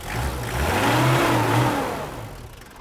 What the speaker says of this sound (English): how well this drives, how well third gear just picks up on this